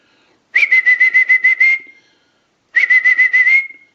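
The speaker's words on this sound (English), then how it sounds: "I'll go ahead and whistle." A person whistles into the transmitter of a Western Electric 317 wooden wall crank telephone, giving two loud bursts of rapid, pulsing warbled notes separated by a short silence.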